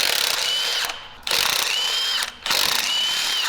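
Air impact gun spinning off 18 mm motor mount bolts on a Ford Focus ST, three loud rattling hammering bursts with brief gaps between them, close up and alone.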